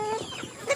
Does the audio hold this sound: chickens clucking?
yes